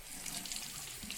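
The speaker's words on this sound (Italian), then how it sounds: "Mi sciacquo la mano" A hand is rinsed under a running bathroom tap during a shaving soap lather test, a steady close splashing rush of water with no talking.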